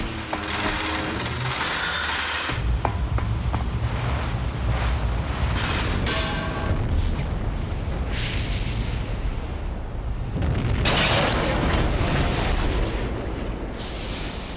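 A ship exploding in the PlayStation game Parasite Eve, heard as a sustained, loud rumbling roar like a huge blast with churning surf-like noise and rolling bursts across the whole stretch.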